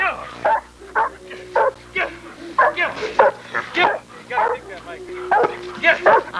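Cane Corso barking repeatedly in steady bursts during protection training, loud and close, with a handler's voice shouting commands between and over the barks.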